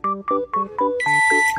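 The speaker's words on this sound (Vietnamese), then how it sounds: "Đầu tiên là 5 tiếng cảnh báo." An anti-theft alarm padlock clamped over a door hasp sounds its warning: four short, loud electronic beeps in quick succession, then a longer shrill tone.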